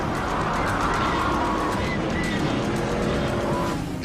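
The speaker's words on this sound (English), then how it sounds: "the racing buddies collide." Race cars roar together at close range, engines loud and continuous with a rising tire squeal and skidding scrape during a collision, sustained over several seconds.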